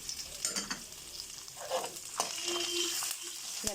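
Cashew nuts and onions frying in oil: a soft, fairly quiet sizzle with intermittent scraping stir strokes, close up and without voices.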